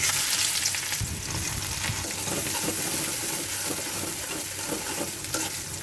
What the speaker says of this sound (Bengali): এই তেলের মধ্যে আমি এখন পেঁয়াজ আর মরিচ দিয়ে দিব।